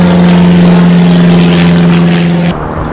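A propeller airplane passes overhead with a loud, steady droning hum that cuts off abruptly near the end, leaving quieter background sound.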